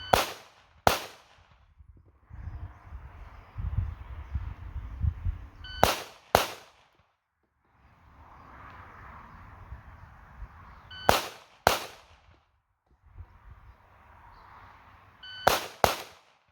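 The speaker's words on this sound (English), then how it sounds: "I'm going to aim at the spot down low and fire 1 shot." Single pistol shots from a 2011 handgun at a shooting range, sharp loud cracks in pairs spaced several seconds apart, with low rumbling handling noise and faint background sounds between them.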